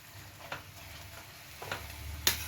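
Prawn masala sautéing in a pan for a Bengali prawn curry, a faint low sizzle with a few soft spatula scrapes and a sharper clink near the end.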